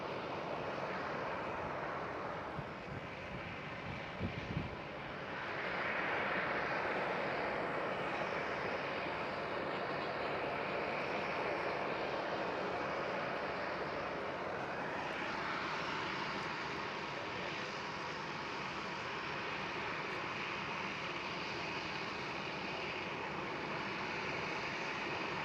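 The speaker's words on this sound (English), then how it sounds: "Next one up is going to be a KLM Cityhopper with an E190." A KLM Cityhopper Embraer E190 jet at Schiphol airport gives off a loud, broad engine roar that swells after a few seconds and holds steady, heard from a distance with no voices.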